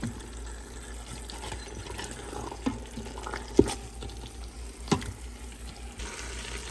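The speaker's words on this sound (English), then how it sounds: "And now I'm going to add water." Water runs steadily into an Instant Pot for nihari, poured from a yogurt container, with a few sharp clinks and knocks of cookware over the flow.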